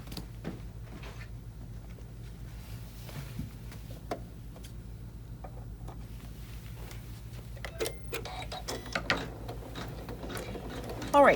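A Janome 15000 sewing machine runs with a low, even motor hum and light mechanical ticks and clicks, close but fairly quiet, ending in a brief louder burst.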